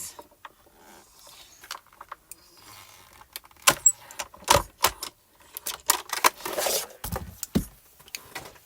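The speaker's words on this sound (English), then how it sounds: "we're going to slowly crank it through our Platinum 6" A hand-cranked Platinum 6 die-cutting machine slowly feeds foil through its rollers, giving irregular close clicks, ticks and rattling that grow busier toward the end.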